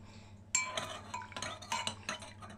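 A spoon stirring ground cinnamon into boiled water in a cup: a sharp metallic clink against the side, followed by several soft, irregular scraping and tinkling strokes at close range, fairly quiet.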